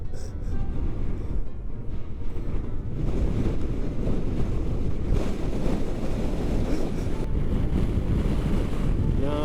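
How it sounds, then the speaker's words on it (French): Extreme gale-force wind roars continuously across the microphone while riding in Norway, a dense, loud, buffeting rush with low rumbling gusts and no let-up throughout. "Le vent extrême."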